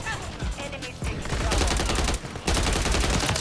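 Dense automatic and rapid gunfire from a Call of Duty match, loud and continuous with bursts overlapping and brief lulls, explosions mixed in.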